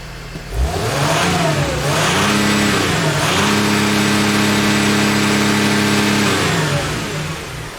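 A Dodge Sprinter van engine revved hard at wide open throttle, loud and close, climbing from idle into a sustained high-rpm roar with a brief dip and second surge before falling back.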